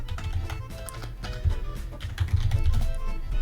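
Quick, irregular keystrokes on a computer keyboard as a short search word is typed, with close, clicky taps in small bursts and no voices.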